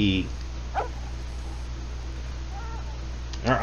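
A dog in the Red Dead Online video game gives a short bark near the start and another near the end, both over a steady low game hum.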